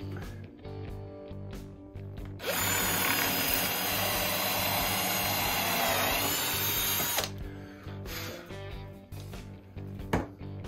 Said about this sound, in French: Je perce mon trou.